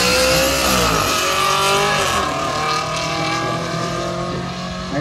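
A BMW E93 330d and an Audi RS5 racing the quarter mile at Santa Pod, engines revving hard with rising and falling gear-change sweeps, loud and close, fading slightly toward the end.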